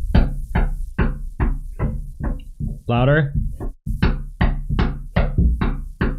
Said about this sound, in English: She's still banging on the door,